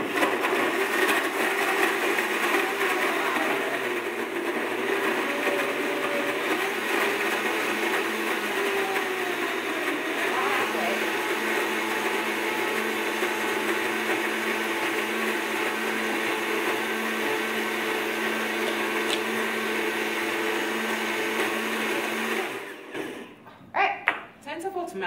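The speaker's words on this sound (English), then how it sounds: "All right, and we're gonna blend it up for about 30 seconds." Countertop blender whirring steadily as it blends a smoothie, a loud continuous roar lasting over twenty seconds with a shift in tone midway before it cuts off, with people speaking over it.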